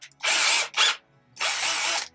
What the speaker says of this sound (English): Chuck that up in a little drill.